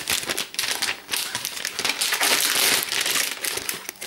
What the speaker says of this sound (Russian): И сейчас вытащим клавиатуру.